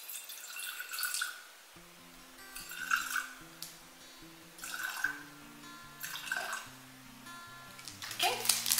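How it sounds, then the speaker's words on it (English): Distilled water is poured into a mason jar during goat's milk soap making, arriving in several short splashing bursts with faint dripping between them, under background music. "I'm going to pour in 100 grams of water, and this is distilled water."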